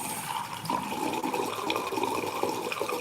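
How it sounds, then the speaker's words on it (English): Running tap water rinsing soapy suds out of a makeup brush held in the hand, a steady close splashing stream with shifting gurgles, no talking. "I'm trying to wash out all of those suds as much as I can"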